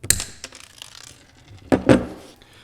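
Snips cut through a part of a titanium Ridge pen: a crisp snap at the start, then two close, sharp clipping cracks later, with quiet mechanical clicks between.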